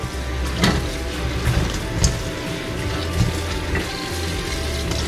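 Green beans are rinsed under running tap water, a steady close splashing hiss broken by a few sharp knocks and clatters from handling.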